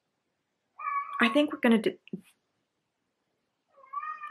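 Cat meowing indoors, a pair of drawn-out, wavering meows near the microphone, followed by a brief pause and another meow starting; a person speaks briefly between them.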